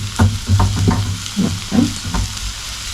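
Onions cooking in a frying pan over low heat, sizzling steadily while being stirred, with loud scraping strokes at an irregular rhythm, close up; one brief word is spoken.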